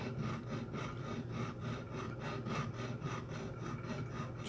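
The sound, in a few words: leveling wood piece on Lee Enfield rifle stock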